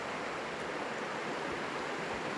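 River flowing beside the Camino de Santiago in Galicia, Spain, a steady broadband rush of moving water, close and continuous with no pauses or voices.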